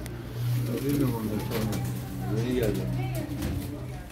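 Black-winged Kuwaiti miski pigeons coo in low, rolling, repeated murmurs inside a pigeon shop, close and steady, mixed with people talking nearby.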